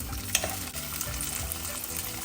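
Corn kernels sizzle and crackle in a hot pan while making white sauce penne pasta, a close, steady frying hiss with a brief stirring clatter near the start.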